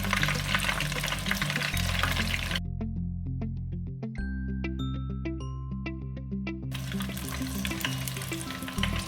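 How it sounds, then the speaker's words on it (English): Money bag dumplings frying in hot oil give off a steady, loud sizzle with bubbling, and a brief quieter stretch in the middle has faint clinks. "So the big one will continue frying."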